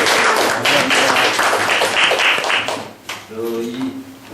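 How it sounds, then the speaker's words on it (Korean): An audience claps at the final session of a Buddhist scripture lecture on the Platform Sutra: a dense burst of applause lasting a few seconds, then a voice speaks as the clapping dies away. "우리 박수 한번 칩시다."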